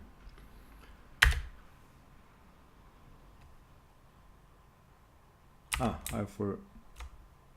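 A computer keyboard is typed on: one sharp isolated keystroke, then a quiet pause, then a quick cluster of clacking keys and a final single tap, close and clear.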